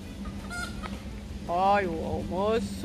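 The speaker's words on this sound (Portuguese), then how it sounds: "Olha a galinha. Olha a garnizé." A bantam chicken in a city park near a small lake gives a few honking, clucking calls, close and fairly loud over a background hum, with someone talking between them.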